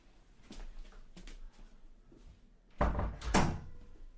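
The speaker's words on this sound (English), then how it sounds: "I'm just going to close this door." An indoor door is pushed shut with a couple of soft bumps before a louder closing thud and a final knock near the end, with no talking.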